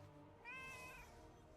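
A cat meows once in an online fantasy game, a short, faint, rising mew heard alone over low background game ambience.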